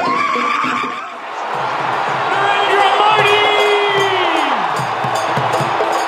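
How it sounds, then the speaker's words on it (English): A packed arena crowd of about 20,000 at a community event for the Indian Prime Minister cheers in a loud, continuous roar, with a brief dip before swelling again. "the crowds cheered for the Indian Prime Minister"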